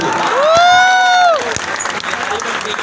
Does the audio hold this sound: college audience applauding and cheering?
yes